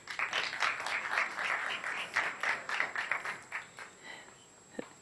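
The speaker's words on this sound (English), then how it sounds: "please give a big applause, a big welcome for Ms. Sanda Čorak, Institute for Tourism" Audience applause fills a congress hall at the 2nd World Sports Tourism Congress, welcoming a speaker to the stage: steady, dense clapping from a large crowd, fading slightly toward the end.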